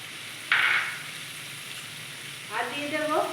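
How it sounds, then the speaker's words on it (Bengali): A spice paste with cumin and turmeric sizzles as it fries in oil in a pan, opening with a sharp burst of crackling and then a quieter steady fry, with more sputtering toward the end. "এবার আমি এটাকে একটু কষিয়ে নেব।"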